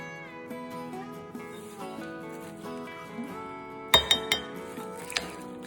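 Tempering stirred into cauliflower pickle in a bowl, heard as a few distinct clinks of a utensil against the dish over faint background music, with no talking.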